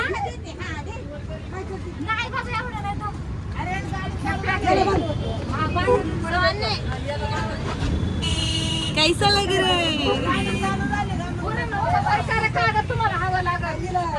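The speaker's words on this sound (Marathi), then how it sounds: "टेम्पो मध्ये बसलोय आम्ही." Inside a moving tempo, a shared auto vehicle, with a steady engine and road rumble under lively chatter and overlapping voices of passengers, a busy, crowded ride throughout.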